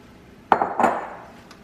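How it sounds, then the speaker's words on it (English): Brown sugar and butter going into a saucepan for Christmas crack, heard as two quick, close knocks of utensil against pan with a faint clink, then quiet. "we're going to start adding all of our ingredients into our saucepan"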